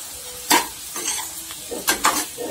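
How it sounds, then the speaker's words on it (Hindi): Boiled potatoes and spices for pav bhaji are stirred in a pan over steady frying sizzle, with several scraping strokes of a spoon against the pan, close and distinct, and no talking. "अब इसको भी डाल के हम अच्छे से चला देंगे।"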